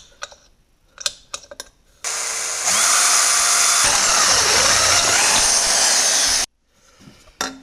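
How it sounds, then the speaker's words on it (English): A power drill bores through a car part during a nitrous install on a 200SX with a 1UZ engine, whining loudly and steadily for about four seconds at close range, with clicks and handling noises before and after. "So I need to drill through there and then tap that."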